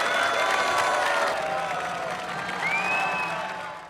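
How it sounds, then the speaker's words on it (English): An audience at a performance breaks into dense applause mixed with crowd cheering and scattered voices, loud at first and slowly fading. "Gwynplaine bowed in gratitude, especially to the Duchess, who applauded him."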